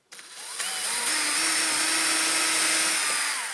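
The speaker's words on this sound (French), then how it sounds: "L'idée étant juste de faire un pré-perçage, on ne va pas jusqu'au bout, on ne traverse pas la lame" A power drill bores a pilot hole into a wooden slat of a wood-and-metal composter, a steady high whine that starts abruptly, runs for a few seconds, then slows slightly at the end.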